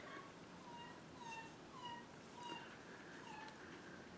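A young girl imitates a cat, giving a string of short, high meows at a steady pace, fairly faint and heard alone without other talk.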